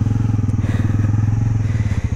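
A Bajaj Pulsar NS400 motorcycle engine running on a track, a loud, close, steady pulsing thrum at even revs throughout.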